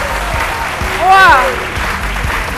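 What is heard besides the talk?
studio audience applauding Miss Côte d'Ivoire candidates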